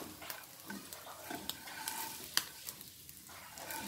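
Small ayirai fish fry in oil with a quiet, steady crackling sizzle, dotted with light pops and soft utensil clicks, up close and with no voices.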